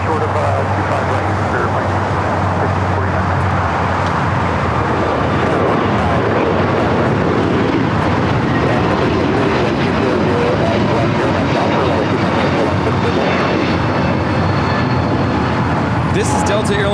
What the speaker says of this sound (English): This is Delta Airlines 867 taking off to Orlando, Florida on the A321 Neo